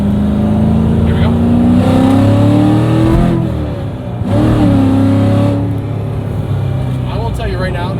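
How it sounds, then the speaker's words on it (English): A V8 car engine revs loudly while driving, a steady deep drone that swells and dips as the throttle changes, with people talking over it. "This definitely feel like the power though from the V8. And it's nice and loud."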